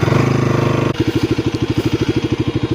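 A motorcycle engine runs close by with a rapid, throbbing putter that steadies into an even rhythmic chug after a brief shift.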